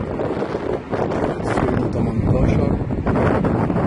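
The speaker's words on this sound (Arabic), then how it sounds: "جو كله تراب ومعلق في الجو، معلق في الجو هوا وأتربة." Strong dusty wind on a hot summer day in an outdoor setting, a broad continuous roar buffeting the microphone with steady low rumble and gusting surges throughout.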